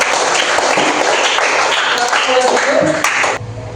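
Classroom applause after a song, students clapping together in a steady burst with some voices, ending abruptly.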